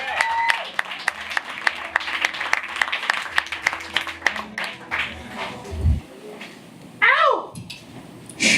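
Comedy club audience applauds a stand-up comic at Club Cafe, a moderate burst of clapping that thins out midway as the performer starts talking and a few shouts ring out.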